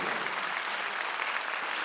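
A church congregation claps during a Sunday worship service, a continuous even roar of many hands that sounds close and full, with no voices rising above it.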